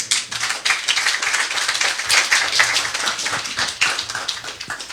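A church congregation claps steadily and densely at a wedding celebration, a sustained close burst of many hands with no talking over it.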